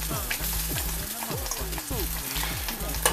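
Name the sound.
grits with cheese starting to boil and bubble in pot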